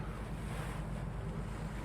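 Steady deep-sea waves and wind roar around a trawler steaming along while towing a big net, a constant dense wash with buffeting wind noise on the microphone and no voices.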